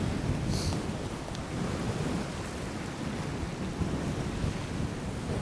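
Strong wind buffets the microphone over crashing sea waves on a rocky Isle of Skye shore, a dense continuous roar with no voices.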